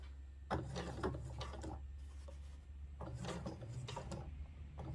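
Sewing machine stitching along a jeans hem with a hump jumper under the presser foot: bursts of steady mechanical whirring and clatter run in two stretches with a brief lull between, over a constant low motor hum.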